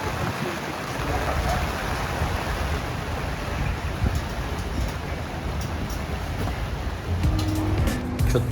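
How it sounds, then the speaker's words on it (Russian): Steady, dense rain hiss heard from under an awning at a street restaurant in a fishing village, filling the scene without a break, a constant broadband wash with a faint low rumble underneath. "опять начался дождь"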